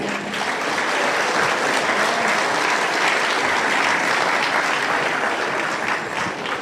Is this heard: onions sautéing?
no